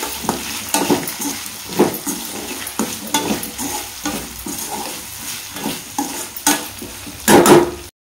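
Raw banana fry being stirred in a pan, with repeated scraping strokes and a steady sizzle underneath, close and fairly loud, ending in a louder clatter of the utensil against the pan.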